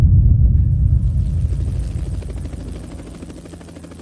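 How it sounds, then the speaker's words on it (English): A military helicopter's rotor chops loudly nearby, then its thudding beat fades steadily as it flies off into the distance. "we see several helicopters in a convoy"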